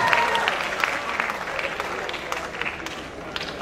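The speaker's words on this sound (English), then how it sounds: "I'm not going to take that applause" An audience at a university department's public lecture and fellowship award claps steadily; a sustained, even round of applause fills the hall and tapers slightly toward the end.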